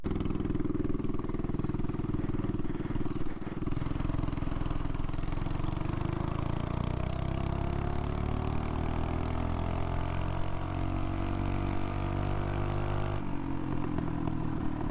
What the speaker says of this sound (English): This bike is so fast, man.